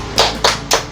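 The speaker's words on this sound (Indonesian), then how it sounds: "Sekarang berdiri, kita tepuk PPK bersama-sama terlebih dahulu." Primary school pupils clap the PPK chant together as a class, three crisp, evenly spaced claps, loud and close, with no voices between them.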